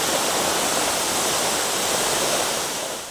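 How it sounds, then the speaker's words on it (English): A waterfall reached after a rocky hike on a motorbike tour in Thailand, heard as a loud, steady, broadband roar of falling water with nothing else over it. "The sound of the water falling is getting louder and louder, so we must be near."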